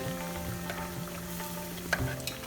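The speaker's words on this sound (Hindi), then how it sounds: "सेकेंड बैच में मैं 3 मालपुआ फ्राई कर रही हूँ" Three malpua fry in oil in a pan, giving a soft, continuous sizzle with small crackles and a brief utensil tap partway through.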